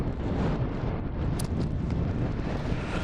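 Strong wind buffeting the microphone on an exposed Scottish mountainside in spring, a steady loud roar and rumble that goes on unbroken with no talk.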